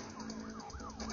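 A police car siren in the video game Smashy Road wails loud and continuous through the whole short stretch, with rising and falling sweeps over steady game engine drone.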